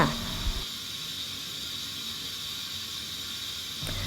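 Tilapia boiling in fermented fish sauce (pla ra) in a home kitchen gives a steady, close hiss of simmering liquid that continues evenly throughout.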